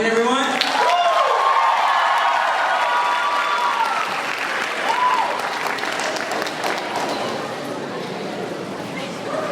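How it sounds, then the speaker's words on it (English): Audience applause and cheering for the Korean Peace Mission Dance Group at a Hallyu showcase, loud crowd clapping with whoops and high shouts early on, gradually thinning toward the end. "A round of applause, please, everyone."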